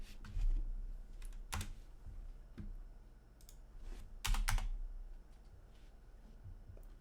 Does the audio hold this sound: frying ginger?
no